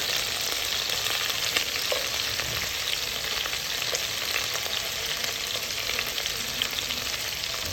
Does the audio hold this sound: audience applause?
no